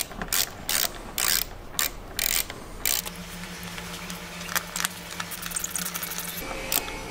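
A hand ratchet tightens windscreen bolts on a Suzuki V-Strom DL800 motorcycle, giving rapid clicking bursts in short repeated strokes, then a steadier run of fine pawl clicks with a faint hum underneath, close and alone.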